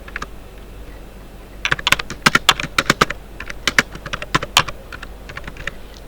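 Rapid typing on a computer keyboard while writing HTML, a loud close burst of crisp key clicks in an irregular rhythm with brief pauses, heard alone without talk.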